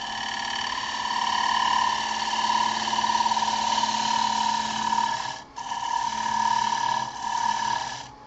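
Wood lathe turning a yarn bowl, a steady motor hum with a bright tonal whine that holds nearly level throughout, fairly close and loud, with one brief dip in the middle where the cut pauses.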